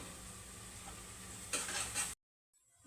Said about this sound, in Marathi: कांद्यात मीठ घातलं ना लवकर हे होतं, कांदा नरम होतो आणि फ्राय पण होतो